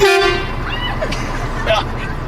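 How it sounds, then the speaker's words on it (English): A big-rig truck horn toots at the start, a short blaring honk over low engine rumble, followed by brief faint squeaks and background noise. "So I think you should honk the horn and wave at your mom."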